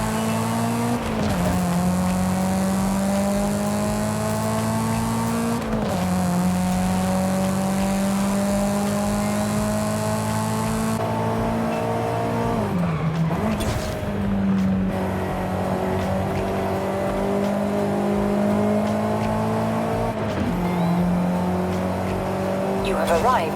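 Mitsubishi EVO 9 in Forza Horizon 5 running practice laps, its engine droning loud and close with a steady held note that rises and falls through gear shifts and braking dips, with brief tire noise in places.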